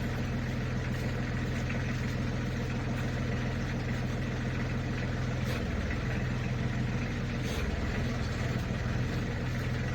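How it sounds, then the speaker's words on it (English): A backhoe tractor's diesel engine idles steadily and close by while the machine reverses slowly, a continuous low throbbing rumble with no pauses and no voices over it. "I'll just back the tractor up slowly."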